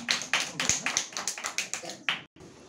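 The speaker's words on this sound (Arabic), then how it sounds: "تصفيق حال الطالب عبد الرحمن دبليس" A group claps in brisk rhythmic bursts for a student in a children's classroom lesson, a dozen or so sharp claps close by, ending abruptly with a brief pause and a faint tail.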